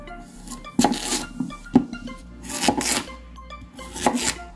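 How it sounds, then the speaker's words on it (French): A knife chopping beetroots on a cutting board, with four or five crisp, evenly spaced chops ringing close and clear, and light scraping and clinking between strokes. "Maintenant, on peut couper nos betteraves."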